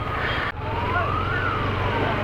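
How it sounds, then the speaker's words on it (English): A siren wails in the distance, its pitch sliding up and down over steady traffic rumble, fairly faint beneath the road noise. "There's an ambulance"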